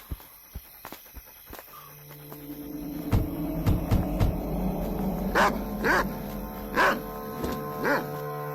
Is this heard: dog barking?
yes